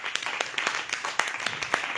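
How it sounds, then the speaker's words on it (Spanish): Rhythmic clapping from a church congregation applauding the Lord during a worship service, sharp repeated claps in a steady beat, fairly close and lively. "Un aplauso al Señor."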